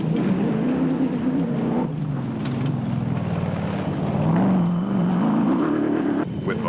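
Cars in a production car race roar past with a steady loud engine drone, shifting pitch as they accelerate and pass, under commentary.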